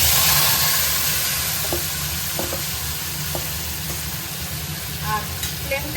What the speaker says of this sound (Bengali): বেরেস্তা যে বানিয়েছিলাম ওই তেলটাতে এই মাশরুমটা এবার দিয়ে দেবো।